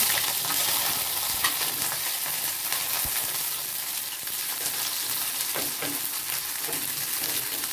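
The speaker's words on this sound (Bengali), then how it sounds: "লঙ্কা পেঁয়াজ ভেজে নেব।" Chopped green chilli and onion fry in hot oil with a steady, close crackling sizzle, broken by occasional scrapes of stirring, and no voices.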